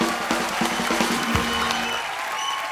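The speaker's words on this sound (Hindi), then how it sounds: "जोरदार तालियां एक बार हो जाएं।" A studio audience claps loudly in a dense, continuous round of applause at an Indian comedy talk show as a guest is seated. The clapping is heard close and fades toward the end, with faint background voices.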